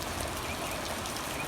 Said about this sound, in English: It's nice slow rain right now, so that's pretty good.